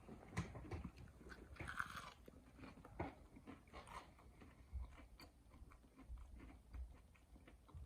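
Someone bites into an oven-baked frozen onion ring, producing repeated crunchy bites and chewing, close and fairly quiet, with no talking over it.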